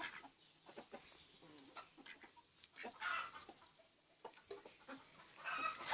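Several hens cluck in a farmyard coop, with soft, irregular clucks and occasional louder calls from close by and across the pen, rising in a few bursts, with no talking.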